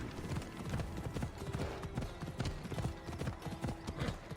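Horse hooves clip-clop steadily in Assassin's Creed Odyssey, a brisk, even rhythm of close hoofbeats over a busy game background with no talk.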